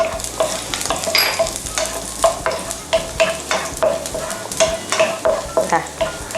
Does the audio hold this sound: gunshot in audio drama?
no